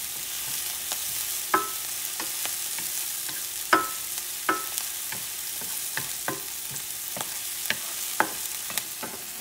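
Garlic sizzles in a hot pan with a continuous bright hiss, broken by occasional sharp scrapes and knocks of a utensil stirring it, with no one talking.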